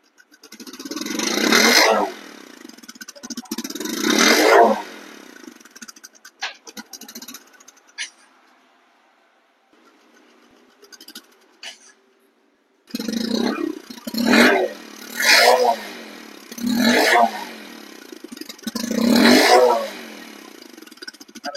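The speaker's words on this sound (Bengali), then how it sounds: "আপনারা এই বাইকটির সাউন্ড কন্ডিশনটা একটু শুনবেন।" A Bajaj Discover 125 motorcycle engine runs close by. It is revved in repeated rising bursts, with a quieter idle lull midway before several more throttle blips.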